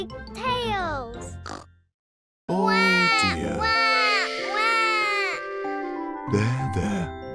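A cartoon baby pig in Peppa Pig cries loudly in long, wavering wails with a short silent break, close and shrill, mixed with snorty piglike grunts.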